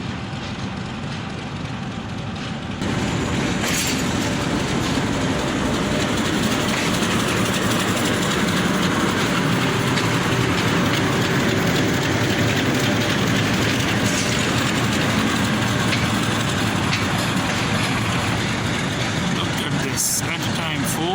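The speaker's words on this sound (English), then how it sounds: "Shunting movement is also in process" Train shunting in the Rawalpindi station yard at night, a continuous loud rumble of rolling stock and locomotive engines with faint clattering throughout, holding steady from start to finish.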